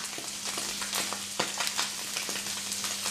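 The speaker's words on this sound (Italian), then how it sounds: "Vado a mettere la cipolla, quindi altro olio." Onion sizzles in olive oil in a pan for a pasta dish, a bright steady crackle and hiss with occasional stirring scrapes, close and continuous without talking.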